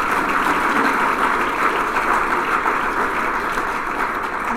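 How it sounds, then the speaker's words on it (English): Steady, dense applause from a seated audience at a Chamber of Commerce luncheon, holding at an even level for several seconds with no break and no voices on top. "just a hand of applause for good work put on by the Chamber"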